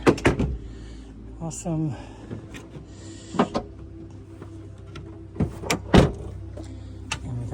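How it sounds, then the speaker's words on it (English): The rear door of a Honda Element fitted with a swing-out tire carrier drops down, giving several clunks and thumps of metal latches and panels among rattles and creaks, while someone talks briefly between the sounds. "And then back door drops down."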